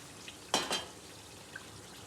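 Hot sugar syrup hits roasted semolina for halwai-style suji halwa, giving two quick, faint hissing sizzle bursts close together, then only low background hiss.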